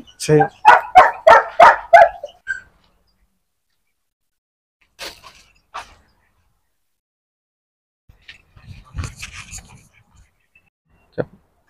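A burst of quick, high yapping barks from small dogs opens the clip, followed by sparse, quieter yips and rustling with long silent gaps.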